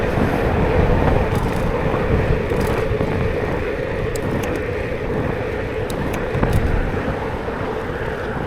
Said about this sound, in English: Train's still going.